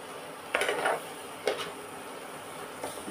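Suji halwa being stirred and mixed in a pan over a low flame: a few quick scraping clinks of a utensil against the pan, close and moderately loud, separated by quiet pauses, with no talking.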